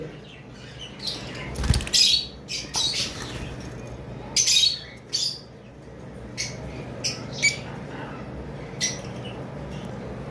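Pet blue dacnis birds kept in a farm cage give sharp, scattered squawks and chirps with some wing flutters, loud and close in irregular bursts over a quiet background.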